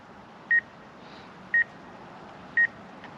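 A DJI Mavic Air 2 drone's obstacle warning sounds as three short, evenly spaced electronic beeps about a second apart over a quiet background hiss.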